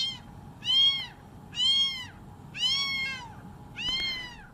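A young kitten being tube fed through a red rubber catheter meows four times at an even pace, each cry close and clear over a faint low hum.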